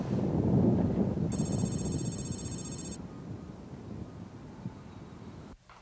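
A telephone rings once in a short high metallic burst of bell-like ringing over a rumbling, windy background, then stops, leaving low noise before an abrupt cut.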